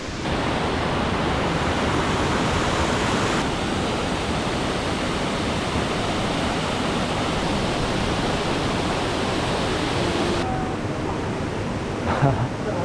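Steady, loud rush of the Datanla waterfall in Dalat, Vietnam, after rain, heard from nearby along a cable car ride as a continuous roar with faint voices.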